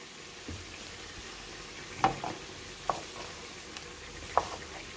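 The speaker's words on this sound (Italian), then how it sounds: "In questo modo i pinoli faranno una specie di tostatura e diventeranno molto profumati e gustosi." Pine nuts toast in a pan for Sicilian eggplant caponata, a steady close sizzle with a few sharp clicks and taps of stirring scattered through, no voices.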